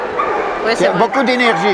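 A small black Peruvian hairless dog at the 2016 European Dog Show in Brussels gives quick yips and whimpering barks, close and loud, mixed with people chatting in French.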